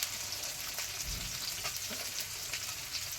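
Onions fry with spices in a pan, giving a steady, soft hiss and sizzle with faint crackles throughout and no talking over it.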